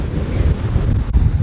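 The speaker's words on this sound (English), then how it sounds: "It's so windy, so foggy." Strong wind buffets the microphone at a foggy seaside with rough sea, a steady loud low roar with gusty fluctuations and a faint wash of surf beneath, no voices.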